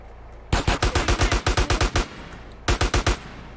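Rapid automatic gunfire from GTA San Andreas Definitive Edition crackles in two loud bursts, a long run of evenly spaced shots followed after a pause by a shorter volley.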